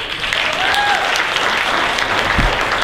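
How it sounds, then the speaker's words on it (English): An audience at a beauty pageant bursts into thick, sustained applause, loud and even from start to finish, with a brief whistle rising over the clapping. "another round of applause"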